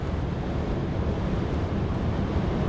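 Strong wind buffeting a microphone in a moving vehicle while driving into Indiana with crosswinds, a loud continuous low roar and rumble throughout, no talk.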